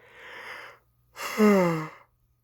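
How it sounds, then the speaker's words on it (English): A breathy exhale followed by a longer, voiced, drawn-out yawn with a falling tone, close and fairly quiet. "forgive me, I hate yawning."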